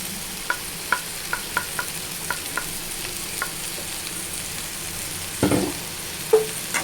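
Ivy gourd fry with coriander and sesame powders is stirred in a pan, with a quiet continuous sizzle and a series of light, regular scraping taps from the spoon, then a louder scrape near the end.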